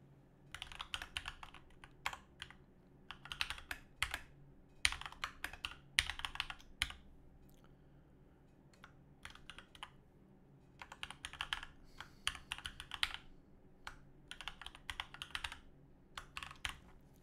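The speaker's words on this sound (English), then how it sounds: "So what I'm going to do is I'm going to type everything out" Code is typed on a computer keyboard in steady bursts of quick soft key clicks, with a longer pause in the middle and low background hum, fairly faint and with no one talking.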